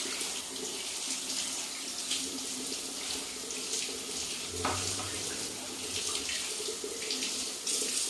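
Water runs steadily from a kitchen tap into a sink while food is rinsed, a constant close splashing hiss with brief shifts as items pass under the stream, and no talking.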